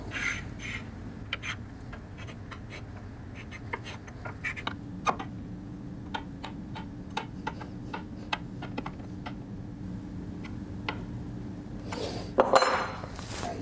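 Light, irregular metallic clicks and ticks of a leveling tool rocking back and forth on uneven guitar frets, close and quiet against a low background hum.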